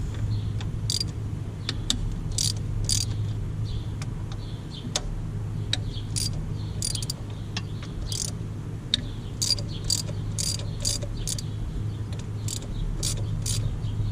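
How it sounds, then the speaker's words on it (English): A ratchet works loose the bolts on the intake horn of a Dodge Ram 2500 with a 5.9L 24-valve Cummins diesel, giving quick bursts of sharp metallic clicking over a steady low hum. "I go around and loosen all the bolts first."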